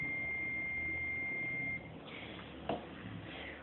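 A continuity tester holds a steady high-pitched electronic beep for a couple of seconds, then cuts off, followed by a brief click against background hiss.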